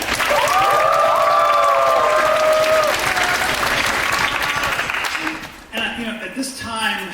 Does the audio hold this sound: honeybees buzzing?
no